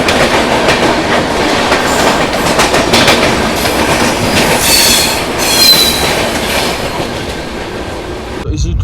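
Indore Katra Malwa Express rolling along the rails, a loud continuous rumble with rhythmic clickety-clack and occasional wheel squeal, heard from inside the carriage.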